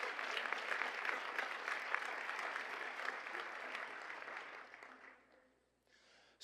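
Audience applause for a student award recipient at a school board meeting and awards ceremony, steady dense clapping for about five seconds that then fades out quickly.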